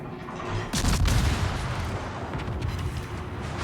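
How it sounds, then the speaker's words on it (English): Heavy naval guns fire a salvo from the cruiser A. Nevsky in the World of Warships naval combat game, a loud booming blast followed by a rumbling tail that fades over a few seconds, with no voices. "Man, these guns are so nuts, honestly."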